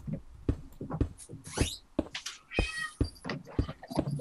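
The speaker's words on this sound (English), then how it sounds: "I got my cat in my room. I can hear." A pet cat meowing repeatedly indoors, close and loud, a string of short and drawn-out cries with some overlapping noise.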